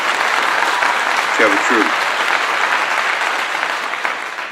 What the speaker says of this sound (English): Let me give everybody a clap out there.